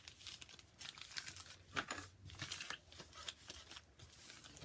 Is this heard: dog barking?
no